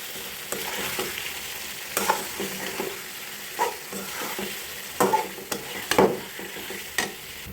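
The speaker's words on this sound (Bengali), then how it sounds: "এখানে আমি কড়াইতে তেল দিয়ে দিয়েছি, তেলটা গরম হয়েছে। এখন কিছুক্ষণ এভাবে তেলের উপর কষিয়ে নেব।" Fish curry ingredients sauté in hot oil in a wok, giving a steady sizzle with scraping stir strokes that rise in irregular bursts. The sound is close and alone, with no talk.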